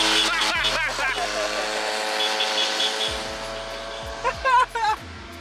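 A modified car flies past during a Monterey Car Week drive, its engine rising and falling in a rough, buzzy pass, followed by a few sharp engine blips near the end, with talk heard around it.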